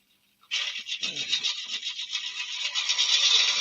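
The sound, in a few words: sharp turning tool cutting a yew wood platter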